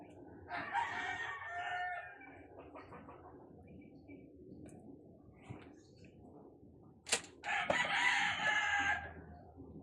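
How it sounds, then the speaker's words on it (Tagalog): A rooster crows twice, a long call near the start and another loud one later, with quieter ambient sounds and faint clucking between. "Meron pang manok."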